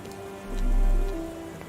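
Rain patters steadily in Sherlock Holmes The Awakened, a soft continuous drizzle with a low muffled swell rising and fading midway, no voices.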